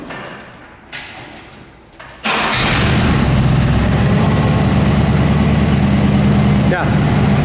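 A 1967 Chevrolet Impala SS with a clutch fires up after about two seconds of quiet cranking, then settles into a loud, steady, deep idle nearby, with a voice heard briefly over it.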